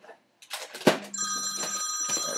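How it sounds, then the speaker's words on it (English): An electronic telephone rings with a sustained bright trilling tone that starts partway in and keeps going, fairly close, with rustling and handling noises mixed under it. "And the phone rings."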